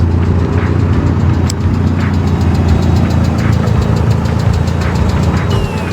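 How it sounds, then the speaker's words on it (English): A modified 1994 Mazda MX-5 Miata M Edition with dual exhaust idles nearby, a loud, steady, throbbing rumble with a faint rhythmic ticking and no voices. "you got dual exhaust on this thing"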